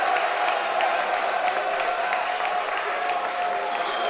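A basketball crowd at an OLSM versus De La Salle game rises into steady, loud cheering and applause, a dense wall of noise that holds throughout without letting up.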